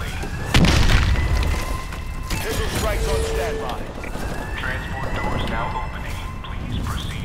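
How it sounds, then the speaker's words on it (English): Missile strike explosions in Call of Duty: Advanced Warfare multiplayer: a heavy boom hits early, followed by a sustained rumbling roar with rising whine-like tones and scattered blasts underneath, continuing loudly to the end. "missile strikes incoming"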